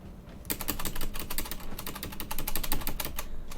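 Rapid, repeated clacks from a computer keyboard's spacebar being hammered while playing Insurgency: Sandstorm, close and fairly loud, a dense, steady stream of keystrokes with no talking.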